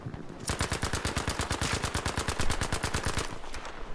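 Sustained rapid automatic gunfire in the World War II shooter Battlefield V, a loud, steady machine-gun burst of evenly spaced shots lasting several seconds without a break.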